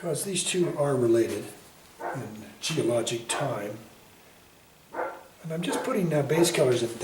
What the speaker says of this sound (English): That's my dog, Tori. Please stop barking.